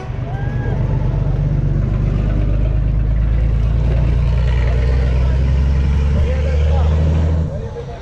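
A loud, rumbling engine drones continuously up close, a deep steady exhaust roar that cuts off near the end.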